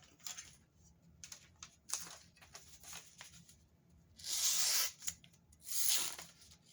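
A drop-forged Survivalist survival knife slices through paper in a series of soft scraping cuts, with two longer, louder rasping strokes toward the end, close and quiet.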